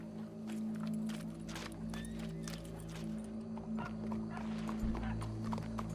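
Horse moving at walking pace in the Red Dead Redemption 2 video game, with steady clip-clop hoofbeats and occasional snorts over a low ambient hum, the footfalls moderately close.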